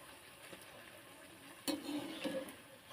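Spinach and carrot puris frying in oil: a soft, faint sizzle, then a sharper splash and louder bubbling as a puri is flipped.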